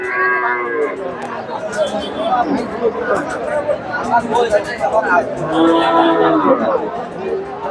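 A Friesian cow and her calf at a crowded cattle market, several loud nearby moos rising out of steady crowd chatter and overlapping voices.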